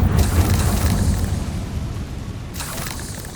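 Confringo fire spell explosion in the Hogwarts Legacy video game: a loud, deep boom followed by a roaring, crackling rumble that slowly decays, then a second rushing burst near the end.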